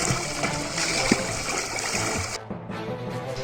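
Cold water splashes and churns steadily around a swimmer, a loud, continuous wash of sound that cuts off abruptly near the end.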